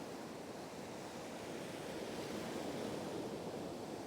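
Steady, faint wash of breakers rolling onto a Scottish beach during a turbot fishing session, a continuous rushing surf with no voices.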